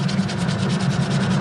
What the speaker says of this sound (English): then a last little sanding